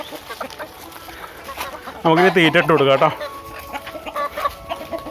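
Chickens clucking nearby in short bursts, mixed with a person talking.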